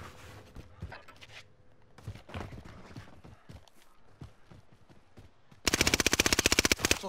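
Gunfire in Call of Duty Modern Warfare: a loud, rapid burst of automatic fire near the end follows quieter scattered shots and game sounds.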